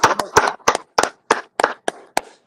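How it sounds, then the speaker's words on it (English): An audience claps for volunteers in short, uneven bursts of hand claps, fairly close and loud, with a few scattered pauses between rounds of clapping. "Let's clap them dudes up one more time."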